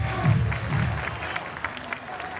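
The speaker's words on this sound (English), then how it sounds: "Everybody clap your hands." A college baseball stadium crowd claps along in a loose, fairly distant patter under booming public-address music, with scattered cheers and some voices.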